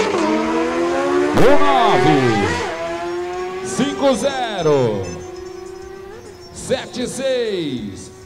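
Superbike 600 motorcycles launch in a drag race at the 2015 Amazonas drag racing championship. Several loud, close engine revs rise and fall in sweeping bursts over a steady background drone.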